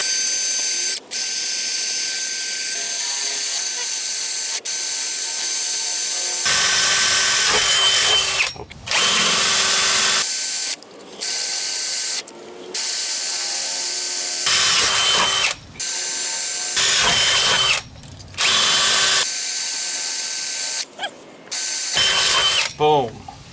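Power drill boring holes into a Ford 6.0 diesel engine part in a workshop, loud close whine in repeated bursts separated by short pauses, with brief ratcheting and mechanical clicks and no talk.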